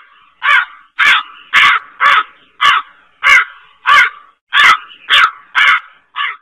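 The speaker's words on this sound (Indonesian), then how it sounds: "Anak di dalam kamar mendengar suara burung gagak di halaman belakang." Crow cawing in a backyard, about eleven loud, harsh caws in a steady rhythm, close by and alone with no talk.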